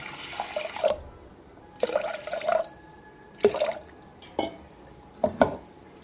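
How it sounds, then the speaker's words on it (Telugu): Water is poured into a pressure cooker holding washed split moong dal, arriving in several short splashing bursts with brief pauses between them, close and fairly clear. "తగినన్ని వాటర్ పోసుకుందాం."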